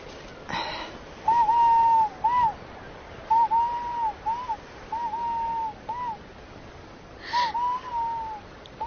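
Bird calling in a repeated series of clear, level whistled notes, each about half a second long, in short bursts over several seconds with a faint background, no speech.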